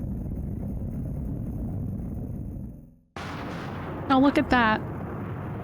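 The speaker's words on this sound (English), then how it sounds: "You'd think an explosion like this would be a little bit larger than inside" Explosion effect in the video game Final Fantasy I, a continuous rumbling roar that fades to silence, then a fresh noisy burst returns as a voice speaks briefly over it.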